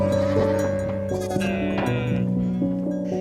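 Goats bleat repeatedly at close range on a village farm in tribal Bastar where chickens and goats are kept, the wavering cries layered and continuous with no talk over them.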